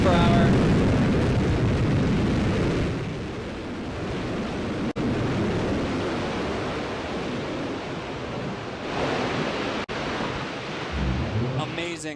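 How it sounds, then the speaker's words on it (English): Blue Origin's New Shepard rocket booster lands with a loud, broad roar of engine exhaust that gradually fades, heard over a live broadcast feed with a voice commentating. "another picture-perfect landing for New Shepard rocket booster"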